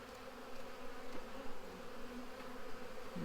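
Honeybees at an Apimaye hive hum in a dense, continuous drone close by, steady throughout with no talking.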